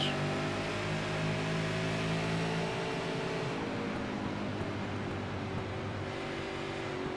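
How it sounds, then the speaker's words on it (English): A race car engine in the iRacing video game holds at its rev limiter down the front stretch at New Hampshire, a steady mechanical drone with stacked tonal harmonics. It stays constant and fairly quiet with no voices. "Max Cookson is on the limiter, redlining that thing out down the front stretch"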